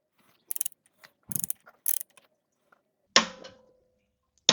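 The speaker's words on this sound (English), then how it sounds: "got the torque wrench set to 75 foot-pounds" A torque wrench set to 75 foot-pounds tightens a crank gear bolt on a Land Rover Jaguar TDV6/SDV6 diesel engine. A few short bursts of close ratcheting clicks are followed by a louder, sharper clack, with quiet gaps between them.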